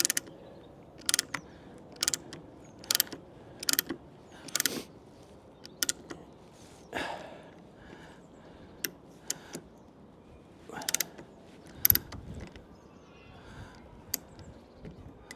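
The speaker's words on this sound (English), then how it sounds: "use the riv nut tool to tighten them up" A hand riv nut tool squeezes riv nuts into awning bracket holes, making a run of sharp clicks and ratcheting snaps at an uneven pace, close by, with quiet gaps between them.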